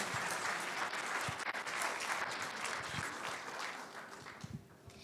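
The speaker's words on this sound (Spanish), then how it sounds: "Un fuerte aplauso a nuestra querida hermana." A church congregation gives a strong round of applause for a sister in the faith, many hands clapping in a dense, even wash that holds steady and then thins out slightly toward the end.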